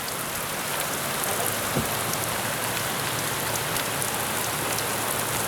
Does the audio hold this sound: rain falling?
yes